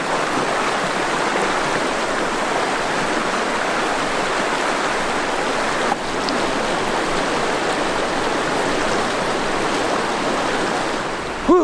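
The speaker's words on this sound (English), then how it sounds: "the route I'm planning to take goes along this creek for another mile or so with an additional 3 to 4 river crossings" Rushing creek water in the Superstition Wilderness as a hiker wades across a deep crossing, a loud, steady broadband wash of flowing water running continuously with a brief splash near the end.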